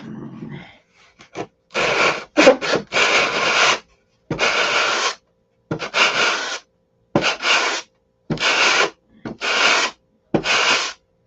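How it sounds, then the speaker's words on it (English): A model airplane turtle deck for a Sig Magnum is sanded by hand, close and fairly loud, in a steady series of rhythmic rasping strokes with brief pauses between them. "Now, I need to sand this and get a tail post in it."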